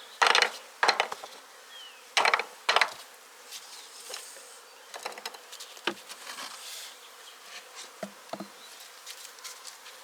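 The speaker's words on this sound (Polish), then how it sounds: "Pszczół przybywa." Honey bees buzzing close by during hive inspection, mixed with scattered wooden knocks and clatter from handling a hive, several louder bursts early on.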